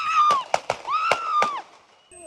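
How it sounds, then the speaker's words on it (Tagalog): About five sharp gunshots, fired in quick succession by an ICE federal agent on a street in Minnesota, crack out over a high, wailing voice. "isa sa ICE ang humugot ng baril at walang habas na pinagbabaril ang lalaking biktima"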